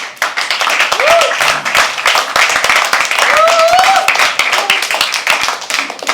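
An audience at a live poetry open mic in a small studio venue claps enthusiastically in a dense, close round of applause, with voices calling out over it.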